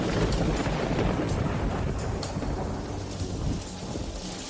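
Heavy city rain pours steadily with rumbling thunder rolling underneath, a dense, loud wash of downpour filling the whole stretch without any voices.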